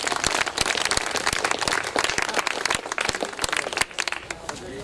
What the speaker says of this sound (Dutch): Dus daarvoor alvast een applaus,